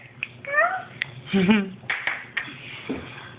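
A person imitates a cat's meow in a short, wavering call, with brief speech and small clinks around it.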